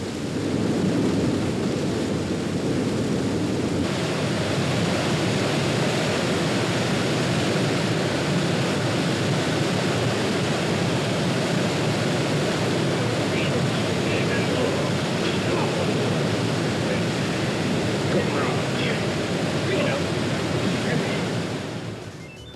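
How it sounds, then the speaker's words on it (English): Grade 10 white water rapids on the Colorado River, flowing between towering canyon cliffs, make a loud, continuous rushing roar that holds steady throughout with no pauses. "the sheer adrenaline rush of hitting grade 10 white water"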